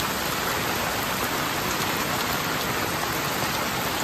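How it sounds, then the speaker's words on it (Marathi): Heavy rain pours down steadily outdoors during a daytime crab-catching outing, a dense, even hiss of falling water that fills the whole span without pause, fairly close and with no voices. "त्या टायमाला पाऊस जास्त आहे"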